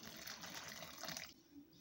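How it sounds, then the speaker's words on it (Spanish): Water streams steadily into a bowl of tortilla dough made with cream and room-temperature butter, a close, continuous pour that stops abruptly near the end. "y agregamos un poco más de nuestra agua"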